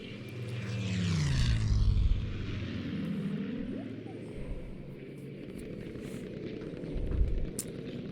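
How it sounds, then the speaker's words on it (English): A G2 propeller plane in the video game Battlefield 5 roars overhead, its engine drone swelling to a peak around two seconds and fading, with a second rise near seven seconds over steady game noise and talk. "it looks like Delicious might be using a banned plane right now, as the G2 was banned"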